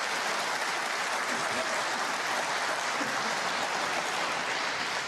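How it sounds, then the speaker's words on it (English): A snooker arena crowd applauds, an even, fairly soft wash of clapping from many hands that carries on throughout without a break. "I think that applause was actually for Joe Swale rather than for the escape by Sanderson Lam"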